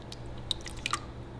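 Strained raw milk yogurt drips through cheesecloth, a few faint, close wet drips and small squishes within a second and a half.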